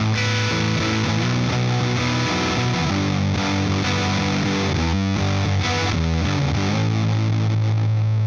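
Electric guitar played through a Supercool overdrive pedal set to full bass, boosted mids and rolled-off treble, giving a loud, continuous distorted tone with sustained chords and riffs throughout.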